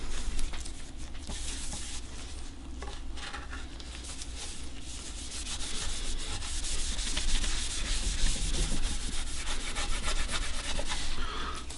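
Wood surface being rubbed by hand with Odie's Oil finish, a steady close scrubbing and swishing that continues throughout without a break and grows a little louder partway through.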